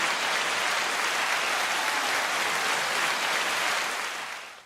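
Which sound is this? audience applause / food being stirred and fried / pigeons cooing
audience applause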